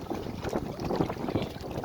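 Wind rushes steadily past a boat out on Doodh Lake, a soft, even, continuous roar with light water movement and no voices.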